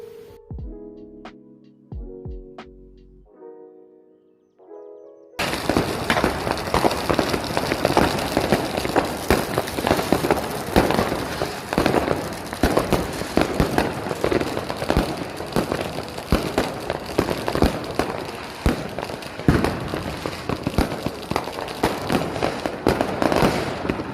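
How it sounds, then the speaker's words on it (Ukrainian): Powerful fireworks bursting outdoors in Germany, a dense, continuous barrage of loud crackling explosions and pops, preceded by a few seconds of quieter tonal sound before the display erupts. "були фейверки, дуже сильні фейверки. Ці люди запускали їх, і я пішла їх дивитись і слухати."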